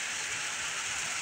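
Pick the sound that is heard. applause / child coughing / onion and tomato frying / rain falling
rain falling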